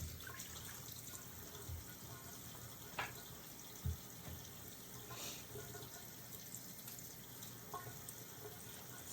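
Tap water runs steadily into a kitchen sink while garlic cloves are rinsed for Jamaican oxtail, a soft, continuous hiss with a few faint knocks, heard alone without talk.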